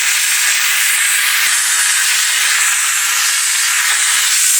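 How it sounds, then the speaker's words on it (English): A handheld steamer hisses continuously and loudly as it softens vinyl wrap adhesive, a steady bright airy rush with a couple of faint clicks, no voices. "what the steamer does is softens the adhesive under the film, so that way no glue is left behind"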